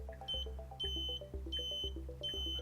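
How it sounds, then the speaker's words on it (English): A repeating electronic beep from a trailer wire tester pulses in sync with a Tesla Model Y's turn signal, about every half second, close and clear, with a faint ticking underneath. "And it's beeping in sync with the turn signal."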